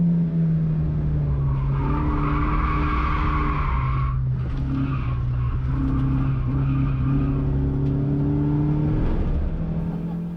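A Toyota Vitz is driven hard around the Pukekohe race track, its engine droning loudly and steadily at high revs, with the pitch dropping and recovering through gear changes and corners.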